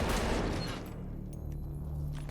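A single loud gunshot from a suppressed weapon indoors in a video game, a sharp burst at the start that trails off in a rumbling decay over quiet game ambience.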